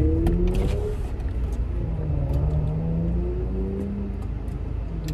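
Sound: Nissan 370Z car driving past, engine revving

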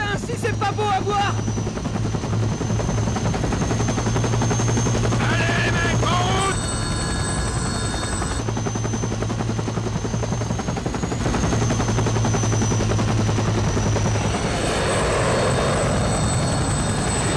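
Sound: helicopter in the video game Conflict Vietnam

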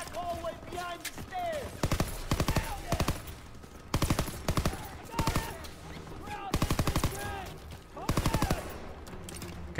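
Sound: gunfire from shooting in the video game Call of Duty WW2

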